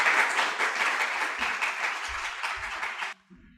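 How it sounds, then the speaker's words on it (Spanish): An audience bursts into sustained applause for a speaker at a talk on paranormal phenomenology, dense steady clapping that fills the room for about three seconds before cutting off abruptly into near silence. "Un aplauso"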